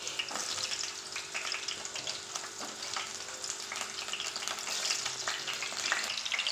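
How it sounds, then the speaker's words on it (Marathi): Chopped green chillies fry in hot ghee in a pan with a steady, close crackling sizzle, dense bright spatter throughout and occasional stirring scrapes. "आणि चला टाकून घेऊयात आता चिरून घेतलेली मिरची."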